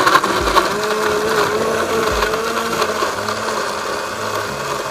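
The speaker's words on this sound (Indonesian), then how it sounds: "Kita blender dulu." Kitchen blender grinding turmeric and ginger with a little water, a loud steady whirring motor drone running throughout without pause.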